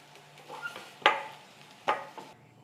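Fried brinjal pieces are lifted out of a frying pan, with two sharp metallic scrapes of a spoon against the pan among softer clinks and a faint sizzle, close and without talk.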